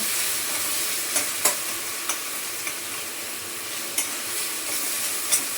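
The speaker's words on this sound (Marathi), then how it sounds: "कांदा टमाटा एकदम मस्त असा खरपूस छान भाजलं तेलामध्ये बघा, बारीक गॅसवर" Onion and tomato fry in oil in a pan over a low flame, with a steady close sizzle broken by occasional sharp clicks of stirring.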